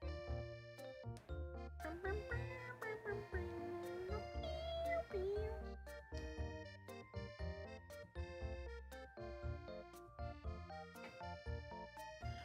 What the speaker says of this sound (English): my cat is being a menace